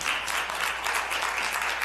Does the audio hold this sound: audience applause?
yes